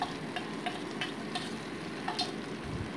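Raw banana paste frying in a pan while being stirred, with a steady close sizzle broken by regular soft scraping strokes of the spoon, no voices.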